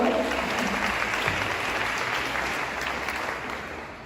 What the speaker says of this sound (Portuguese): Uma salva de palmas para vocês, então.